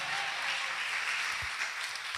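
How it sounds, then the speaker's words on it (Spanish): A church congregation claps together in praise at a worship service, a dense, even wash of applause lasting a couple of seconds. "Dele palmas al Rey de Reyes"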